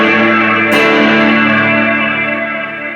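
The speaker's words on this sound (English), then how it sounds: "Lots of reverb." An electric guitar chord rings through a reverb pedal with the effects level turned fully up, a loud, distorted sustained tone with a wash of reverb that slowly fades, no talking.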